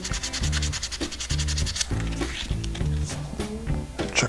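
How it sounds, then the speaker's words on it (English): Sandpaper rubs the heavy blade of an RC airplane propeller on the back side near the tip. The close, raspy strokes come in a steady back-and-forth rhythm with no talking. "I'll double check that I'm sanding the heavy blade, and I'll sand about the outer inch"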